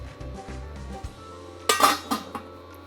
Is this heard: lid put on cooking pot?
yes